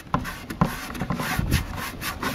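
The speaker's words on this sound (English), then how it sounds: "I thought I would give it a little bit of a sand job" Sandpaper rubs against a plastic hydroponics bucket in a run of close, rasping strokes, each one a short scratchy burst repeating at an uneven rhythm, with no voices.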